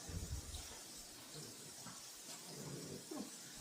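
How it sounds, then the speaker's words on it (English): Water runs from a kitchen tap in a home kitchen, a soft steady hiss and splash that fades near the middle and returns, faint and close with no talk over it. "let me turn that water off"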